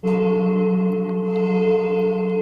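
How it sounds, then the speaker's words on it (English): A resonant metallic ring from hitting metal on an old crane, held as a steady, looping drone with strong harmonic overtones, dry and loud, with faint periodic tapping accents. "I looped a sound where I hit the metal"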